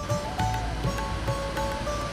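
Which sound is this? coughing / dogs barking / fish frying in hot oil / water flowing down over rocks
water flowing down over rocks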